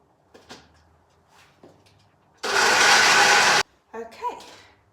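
A small kitchen blender whirs loudly for about a second, blending lemon juice and olive oil, set between quieter clicks and handling noises.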